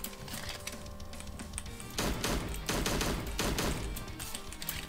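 Gunfire in the video game Slendytubbies 3: rapid bursts of shots crackle in clusters over a busy game soundscape, growing denser toward the middle.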